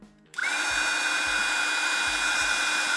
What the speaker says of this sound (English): The pump itself is quite loud, but I think it speaks for the amount of power it has.